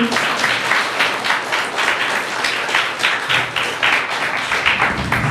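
Audience applause for a student winning a bicycle at a school award ceremony for a religious-history exam, steady dense clapping from a crowd lasting throughout, fairly loud and even.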